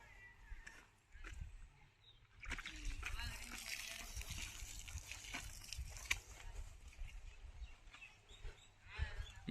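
Water runs and splashes steadily into a container for several seconds, with voices and background noise around it.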